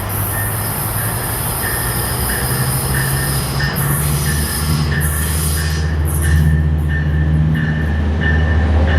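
A San Bernardino Line train rumbles into a station close and loud, wheels squealing and screeching against the rails as it slows, with a low steady engine drone underneath.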